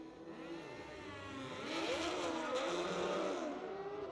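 A drag racing motorcycle launches down the strip at the ManCup World Finals. The engine wails upward through rising, shifting pitches, heard from some distance and fairly faint, with no one talking.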